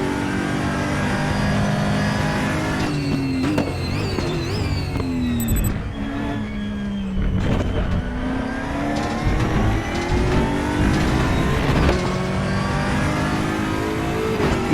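Race car engine of the Aquila CR1 in RaceRoom, screaming steadily at high revs with shifts and a deep dip to low revs mid-lap before climbing again, loud and close with no talking.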